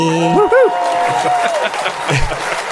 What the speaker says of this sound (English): That's all the ghost clapping